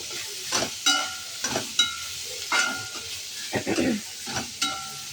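Onions being sautéed in a pan, with a steady sizzle and repeated scraping stirs in an uneven rhythm, close and clear with no talking.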